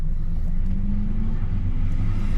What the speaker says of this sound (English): Let me shut the engine off for you.